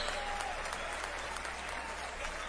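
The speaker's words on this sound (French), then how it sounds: "je voudrais qu'on les applaudisse avant tous les 2 comme il se doit" An arena crowd at an influencer boxing event at the Palais des Sports de Marseille applauds steadily, a dense wash of clapping heard from a distance with faint voices mixed in.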